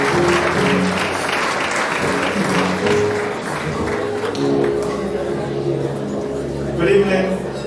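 An awards ceremony audience gives a round of applause, steady moderate clapping spread through the room, with talking heard over it.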